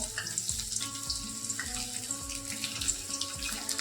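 Paneer cubes frying in medium-hot oil in a kadhai for restaurant-style chilli paneer, a close continuous bubbling sizzle with rhythmic scraping or tossing bumps and no talk.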